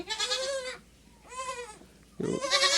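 Young goat kids bleating close by on a farm, three drawn-out, wavering cries with short pauses between them.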